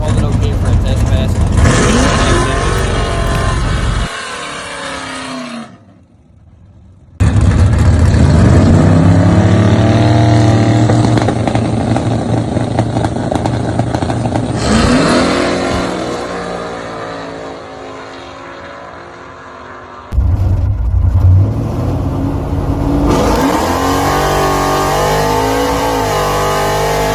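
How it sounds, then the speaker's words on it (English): A drag racing car makes a test pass down the track after launching in high gear, its engine roaring loud and close without gear shifts, with a brief lull before the roar returns and talking heard over it. "if you listen to it going on the track, you might have noticed that it didn't shift at all because it launched in high gear"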